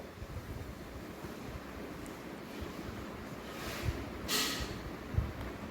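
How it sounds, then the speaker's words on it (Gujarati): Steady rushing wind noise buffets the microphone outdoors in a cotton field, with a couple of stronger gusts and low rumbling thumps toward the end. "ફૂલ પવન હે તમે જોઈ લો પાંદડા એ ફાટી ગયા હે"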